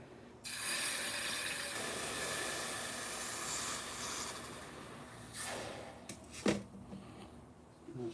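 Food sizzles in a hot pan, a steady bright hiss that starts abruptly and continues, with a few clinks and shifts near the end and no talking.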